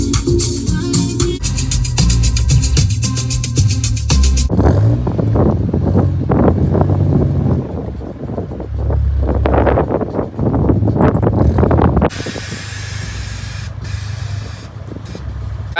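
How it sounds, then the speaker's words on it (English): Strong wind roars against the microphone in loud, sustained blasts, shifting in character as gusts rise and fall. "it's freak windy"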